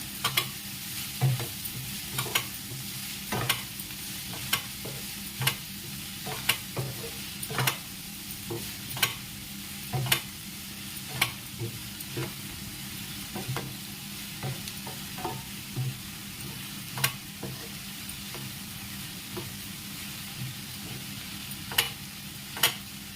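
Ingredients for a Telugu bobbarakaya (cowpea) curry being stirred in a pan until golden brown, a steady low sizzle broken by regular sharp scrapes and clacks of the spoon against the pan, close and continuous with no talk.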